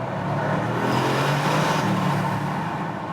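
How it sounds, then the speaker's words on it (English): A Bentley Continental GT V8 shifting down, heard through an open window: a steady, fairly loud engine drone that rises slightly in the middle as revs change, with no talking. "let's just lower the right window and listen to that sound once again. Shifting down."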